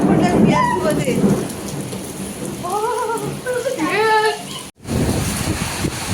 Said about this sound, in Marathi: पाऊस पडला तो पण गारांचा बघा गारा पडतायत